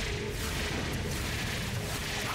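Explosion in the game Enter the Gungeon, a dense rumbling blast with continuous roaring noise that fills the whole moment at steady loudness.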